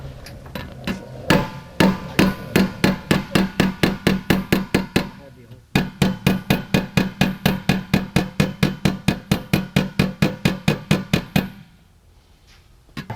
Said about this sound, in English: take a little ball peen hammer and gently peen these in just a little bit